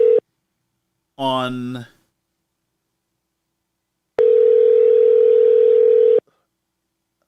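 A faulty phone line gives a short tone, then a brief spoken word, and after a pause a steady, loud dial-type tone that holds for about two seconds before it cuts off.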